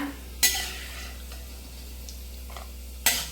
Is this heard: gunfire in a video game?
no